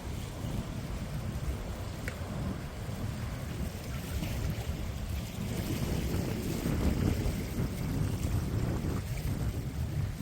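Steady outdoor wind buffets the microphone with a continuous low rumble, loud and unbroken throughout, while fish is filleted outdoors on the spot for a fresh raw-fish meal.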